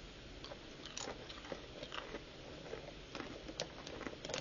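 Close, crisp crunching of someone biting and chewing crunchy chips with a fried egg and bacon flavour, in irregular bursts over a quiet background.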